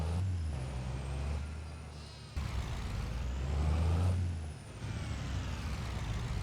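A truck in Farming Simulator 25 lets out loud air-brake hisses over a steady diesel rumble, with a sharp release burst midway and a continuous low engine drone throughout, no talking.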